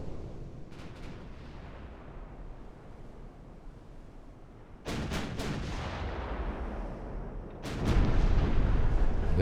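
Naval artillery booms in a video game battle against battleships: two heavy blasts, the second louder, each rolling out over a low sea-like rumble, with no talk.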